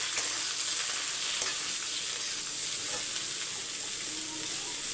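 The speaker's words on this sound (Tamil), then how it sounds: "கொஞ்சம் வதங்கி வரட்டும் அதுக்கப்புறம் உப்பு சேர்த்துக்கலாம்" Carrot, beans and cabbage sauté in a pan with a continuous bright hiss of frying and faint stirring scrapes. It is close and steady, with no voices.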